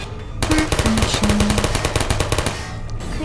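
Turrets in the video game Portal fire rapid automatic bursts, a loud, dense stream of sharp shots lasting about two seconds, with game sounds before and after.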